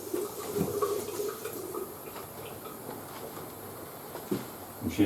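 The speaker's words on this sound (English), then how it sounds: "Turn the water on. Okay. And run the water through." Water running through the tap of a newly installed hand-wash heater in a workshop, a continuous close hiss and splash with a few brief knocks.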